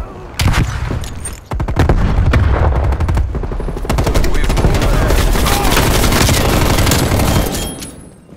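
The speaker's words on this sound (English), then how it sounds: "Throwing grenade!" Rapid gunfire and an explosion from a Call of Duty Black Ops Cold War match, with loud bursts of automatic fire and sharp shots packed together over several seconds in a dense, continuous battle din.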